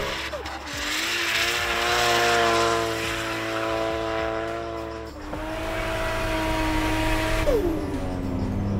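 Toyota Altezza driven hard on a race track in Mongolia, engine droning steadily with clear gear changes and rising pitch between shifts, close and loud, while someone talks over it.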